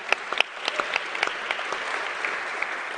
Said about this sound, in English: I'll pause for applause for my dad.